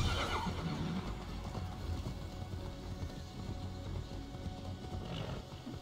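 A horse in the video game Immortals Fenyx Rising gallops with steady hoofbeats and gives a neigh, heard close and continuous over a dense background.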